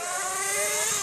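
An RC motorcycle's small electric motor whines at high pitch close by, a steady bright buzzing tone rising slightly over a second.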